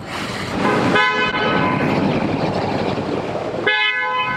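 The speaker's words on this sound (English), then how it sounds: "Who's honking?" A car horn honks loudly and close, a long sustained toot followed after a brief gap by another blast, ringing out alone with no talk.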